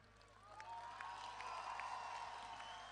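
Crowd applause and cheering at an outdoor public celebration in Kadıköy, a steady mass of clapping with a few whistles and shouts rising over a broad wash of noise, fairly distant and sustained.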